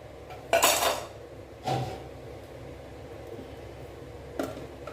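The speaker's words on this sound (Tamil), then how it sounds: "அதுக்கப்புறம் இந்த பிளேட்டை நம்ம உள்ளே வச்சிடலாம்" Metal baking tray of nut tutti-frutti ghee biscuits set into an oven, two clattering metallic knocks followed by a lighter clink, close and clear in a quiet kitchen.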